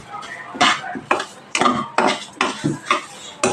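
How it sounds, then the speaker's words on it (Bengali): A metal ladle scrapes and clatters rhythmically against a wok while rice is dry-roasted, several quick strokes in a row, close and fairly loud. "এক হাতা করে চালটা দেব আর অনব্রত নাড়তে থাকবো"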